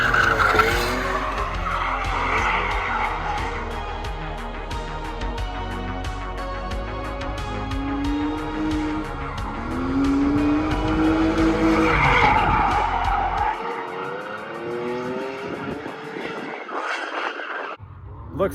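A Nissan 350Z drifts at Apple Valley Speedway, tires skidding and squealing in long wavering screeches over a roaring engine, loud and close, then cutting off abruptly near the end.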